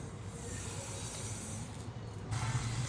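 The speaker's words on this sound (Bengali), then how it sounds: "সোনামুগ ডালটাকে ভালো করে ভেজে নিচ্ছি।" Sonamung dal dry roasting in a pan for bhuna khichuri gives a steady, soft hissing rustle with faint scraping, close and continuous, with no talk.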